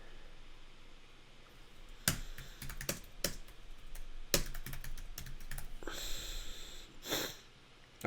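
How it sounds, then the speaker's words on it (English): Fast typing on a computer keyboard comes in quick bursts of sharp clicks and clacks at close range, with soft breathing audible in the quiet gaps. "And typing too fast."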